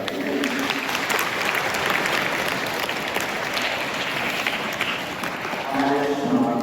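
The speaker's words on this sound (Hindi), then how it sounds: "ताली बजाएंगे।" Congregation at a Catholic funeral mass applauding steadily together, a dense sustained clapping throughout that swells slightly near the end, with faint voices beneath.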